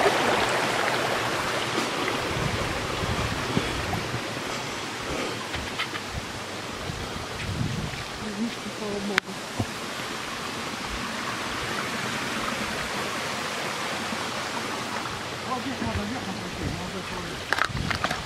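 A stream flows with continuous broadband rushing water on a hike to a stone labyrinth near Kandalaksha, steady and fairly close, with occasional knocks and faint movement.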